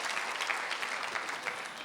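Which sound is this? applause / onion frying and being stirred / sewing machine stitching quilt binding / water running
applause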